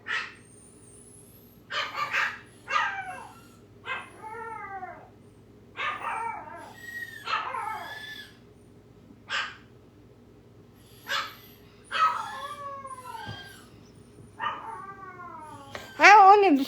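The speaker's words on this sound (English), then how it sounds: "It's like 2 pounds and it's howling." A tiny puppy of about two pounds howls and yips in repeated short, rising and falling cries, nearby and fairly loud, separated by quiet pauses over a faint hum.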